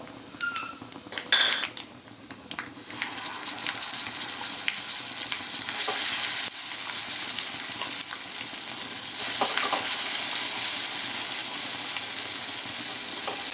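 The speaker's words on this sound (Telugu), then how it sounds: "ఇప్పుడు పచ్చడినే తీసుకొచ్చి ఈ తాలింపులో కలుపుదాం" Wood apple chutney stirred into a sizzling tempering in a pan, a continuous hiss with scraping and clinks of a spoon against metal, fairly close and steady throughout, no one speaking.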